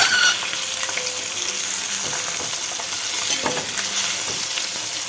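A thick fish fries steadily in a pan on a home kitchen stove, giving a dense, continuous sizzle with scattered crackles and soft clicks of turning, close and loud with no talking.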